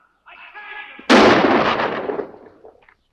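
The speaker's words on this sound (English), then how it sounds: "Some posse man shooting a guy with his hands up." A single loud gunshot rings out in a western, fired by a posse man at a man with his hands up; the sharp blast follows a brief held tone and decays over about two seconds.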